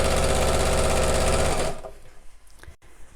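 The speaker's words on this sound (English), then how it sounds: "I'm just going to sew straight across the channel" A domestic sewing machine runs a straight line of stitches across a fabric channel in a bag kit, with a loud, even mechanical whir that stops partway through and leaves quiet handling noises.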